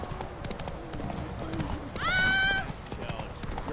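A horse in The Witcher 3 clip-clops along steadily, then lets out a short whinny partway through, with game sounds and some speech mixed in around it.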